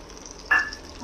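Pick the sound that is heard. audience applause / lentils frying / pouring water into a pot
lentils frying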